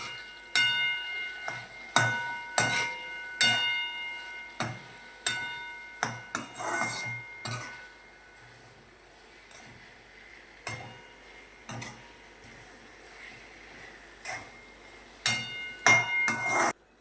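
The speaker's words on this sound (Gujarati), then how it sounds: "કરી દો મિક્સ બધું." Poha being stirred and mixed with salt in a pan, repeated scraping and knocking strokes of a spoon against the metal in an irregular rhythm, close and fairly loud with no talk.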